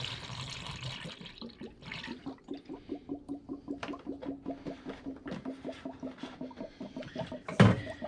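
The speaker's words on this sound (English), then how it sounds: "It just goes in and makes this gurgling noise as it chugs down." Coolant glugs down into the reservoir of a supercharged fifth-generation Camaro under rebuild, making a steady, rhythmic gurgle of repeated chugging pulses, close and fairly quiet, ending with a sharper splash.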